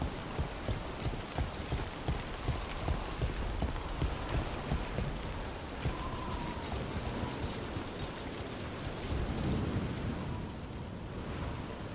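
Steady rain falls in a Dragon Age: The Veilguard scene, with rumbles of thunder and a rhythmic clip-clop of hooves mixed in, continuous and fairly loud with no talking.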